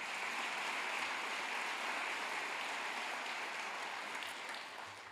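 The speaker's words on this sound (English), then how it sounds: "so you can clap for that too." Audience clapping at a fall welcome meeting, a dense, steady wash of applause sustained throughout and tapering slightly at the end, with no voices over it.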